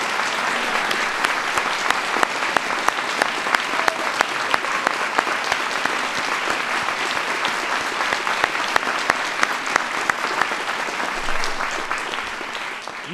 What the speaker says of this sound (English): So give Rebecca a big round of applause.